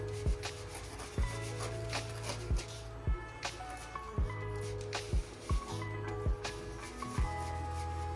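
A knife peels the thick skin off a raw jackfruit in slow, regular strokes, each with a sharp rasping scrape and a soft thud, heard up close in a quiet kitchen.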